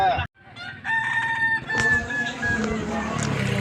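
A kukuak balenggek rooster at a crowing contest at Danau Bawah gives a long, multi-tiered crow with stepped, wavering pitch, close and loud, followed by further clucking and crowing amid a busy outdoor crowd.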